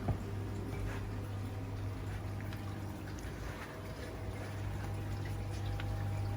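An Ecotech Vector M2 pump runs in an aquarium sump, giving a steady, continuous watery rush and low mechanical hum that holds level throughout, with no talking.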